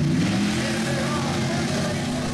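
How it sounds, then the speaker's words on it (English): Two Ford race trucks revving their engines at the start of a mud race at Stateline Speedway, a loud steady engine roar with rising revs while a voice talks over it. "Two Ford racers going up against each other."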